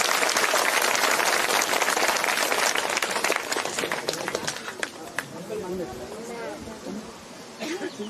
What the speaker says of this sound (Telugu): ఒకసారి గట్టిగా చప్పట్లు కొడుతున్నాము